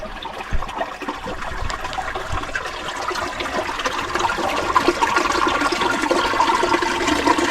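A spring gushes out beside a house under rehabilitation, where a giant stone blocked it, making a steady, loud rush of water that carries on throughout with no voices.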